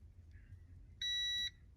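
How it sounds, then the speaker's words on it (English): A multimeter's continuity beep sounds once, a steady high tone lasting about half a second, while probing ECU pins to find the fuel pump wire on a MKIV Toyota Supra, quiet otherwise. "My multimeter is beeping."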